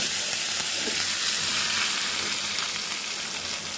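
Dried red chillies and curry leaves fry in hot coconut oil as a loud, dense, continuous sizzle and hiss heard up close, steady throughout with no voices.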